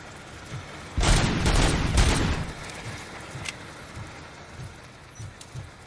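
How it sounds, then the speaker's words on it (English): A rocket launcher blast in the game RoboCop: Rogue City bursts at about one second into a loud, rumbling explosion lasting roughly a second, followed by scattered small pops and debris patter fading away. "So that was my first rocket launcher in the game."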